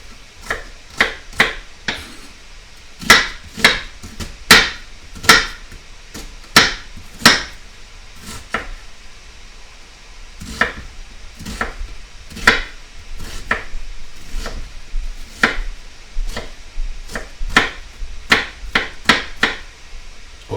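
A heavy cleaver chops onions on a board in sharp, loud, close strokes, arriving in quick irregular bursts with short pauses and no talk.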